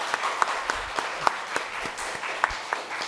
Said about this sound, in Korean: 환영 박수하겠습니다.